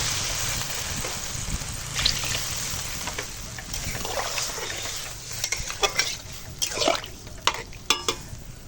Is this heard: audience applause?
no